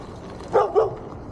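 A dog lets out two quick, moderately loud barks close by against a quiet outdoor backdrop.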